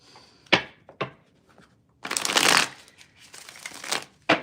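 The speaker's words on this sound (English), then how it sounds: "I'm going to shuffle again, guys." A deck of tarot cards is shuffled up close, with a few soft taps and flicks and then a dense riffling burst of card noise, ending in a sharp snap.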